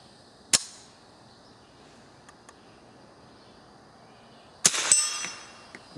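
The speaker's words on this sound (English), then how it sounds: "So now it's going to clack in the closed position here." Savage-JC Higgins .22 rifle action snapping shut on an empty gun at a shooting range, two sharp metallic clacks a few seconds apart over faint outdoor background, with no talking.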